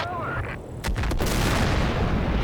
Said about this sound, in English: That looks like a nice big explosion.